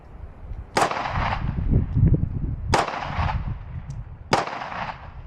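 Three sharp 10mm pistol gunshots fired outdoors during a ballistic test, each a loud crack with a short decaying tail, spaced about two seconds apart.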